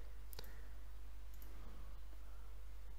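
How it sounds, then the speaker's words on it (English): A single sharp mouse click on a generate button, close and isolated against a quiet background hum. "you have to click generate"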